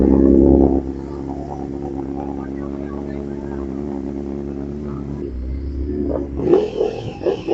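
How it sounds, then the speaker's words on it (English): KTM motorcycles, including two Super Dukes, rev and ride off on a road trip; a loud engine roar at the start fades to a distant drone, then a fresh burst of revving at the end, with someone talking throughout. "KTM boys now going off."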